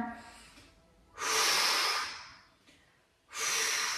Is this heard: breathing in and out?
yes